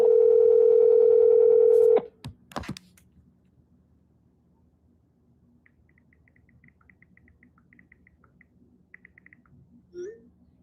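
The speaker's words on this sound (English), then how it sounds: "Please pick up the phone." Phone call ringback tone while dialing out, a steady loud tone for about two seconds, then a couple of sharp clicks and quiet line noise with faint intermittent beeps.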